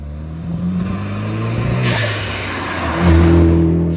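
A car engine fitted with a Turbosmart blow-off valve revs up loudly and close, its pitch climbing and rising again near the end, with a hissy burst in the middle and no voices.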